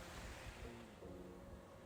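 Ocean waves wash at the foot of a cliff below a lighthouse: a faint, continuous broadband surf roar with a soft swell and wind hiss, no voices.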